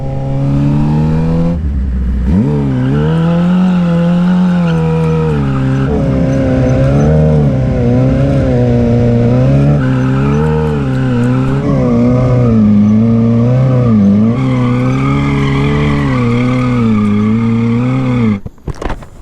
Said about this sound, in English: I haven't done donuts in a long time.